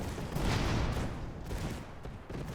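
Rapid gunfire from an airship in Airships: Conquer the Skies comes as a continuous, dense rumbling fusillade, steady and fairly loud throughout, with no voices.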